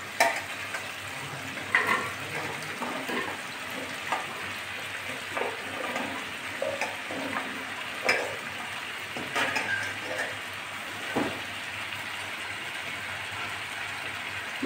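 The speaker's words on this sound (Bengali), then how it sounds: "কেটে ধুয়ে রাখা সজনে ডাঁটাগুলো দিয়ে দিচ্ছি।" Potatoes, chopped tomatoes and drumstick pieces fry in a pan, a faint continuous sizzle with scattered light stirring clicks and scrapes of the utensil, heard up close without speech.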